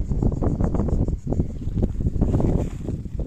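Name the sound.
wind blowing outdoors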